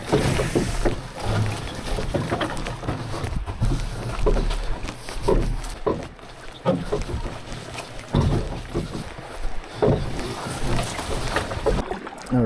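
Canoe paddling on a lake during a rugged backcountry trip, with repeated soft splashes and strokes in a steady rhythm, water swishing close by, and faint voices now and then.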